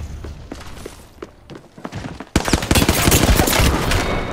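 Gunfire in an Apex Legends arena match, scattered single shots at first and then a sudden dense, loud stretch of rapid automatic fire with impacts.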